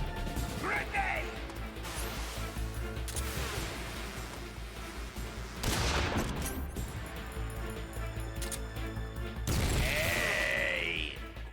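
A grenade goes off in Metal Gear Solid 3, producing sharp crashing bursts amid continuous game noise, with a voice crying out briefly between the blasts.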